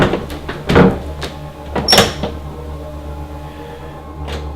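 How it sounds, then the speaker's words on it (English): A museum door being pushed open, heard as a series of sharp knocks, clunks and rattles spaced over several seconds. The sounds are close and fairly loud, with a last fainter knock at the end and no talking. "Couldn't get the door open."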